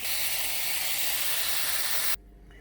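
Wild mushrooms frying in butter in a hot pan: a loud, steady broadband sizzle fills the first two seconds, then cuts abruptly down to a much quieter simmering hiss.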